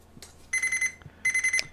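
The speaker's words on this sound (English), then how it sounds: "there goes the timer for the oven" Oven timer going off in a home kitchen: two short bursts of rapid high electronic beeping, fairly loud, with faint clatter in between.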